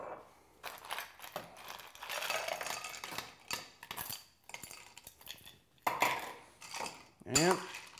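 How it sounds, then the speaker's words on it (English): A Red Hook cocktail of rye and Punt e Mes is stirred with ice in a mixing glass, giving a close, bright clinking and rattling in uneven bursts, louder toward the end. "And we're just gonna stir it."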